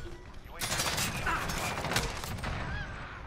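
Gunfire in a multiplayer shooter game, a continuous spray of rapid shots starting about half a second in and running to the end, with a voice talking over it.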